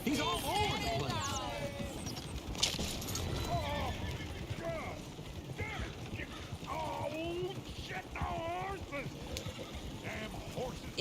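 Steady clip-clop of hooves under ongoing speech, with neighing and whinnies and busy background activity throughout, from horses in the video game Red Dead Redemption 2.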